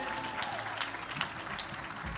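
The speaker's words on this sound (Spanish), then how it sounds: "denle el aplauso fuerte" Church congregation applauding steadily during a prophetic service, a dense, even wash of clapping from a crowd heard at a distance without a break.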